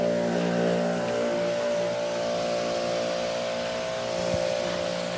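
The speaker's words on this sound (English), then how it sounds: "The pump is primed, so now we'll turn it on and finish watering the car down." An electric pressure washer's pump motor runs continuously for car washing, a steady droning whine with a constant tonal hum and faint hiss of water, close and unbroken.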